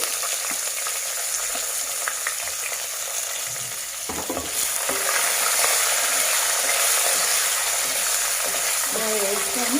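Onions fry in a pan with sesame seeds and cumin for an Andhra-style dosakai pachadi, producing a loud, continuous crackling sizzle that grows fuller partway through, with light stirring scrapes and a voice faintly underneath.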